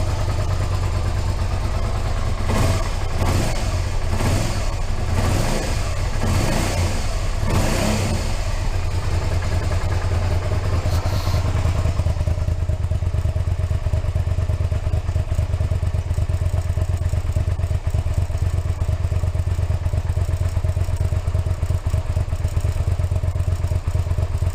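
A 2001 Suzuki SV 650 S motorcycle engine running on a very cold day: a close, steady low idle with a few sharp throttle blips early on, then an even rumble alone.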